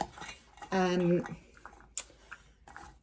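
A metal spoon scrapes and clinks against a glass canning jar as carrots are added for a pressure-canned beef stew, several close, bright taps and rattles spaced irregularly, alongside a speaking voice.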